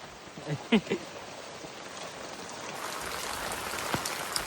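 Steady rain falls over a village street, a broad continuous hiss that swells slightly louder later on, with a few brief faint voices or knocks near the start.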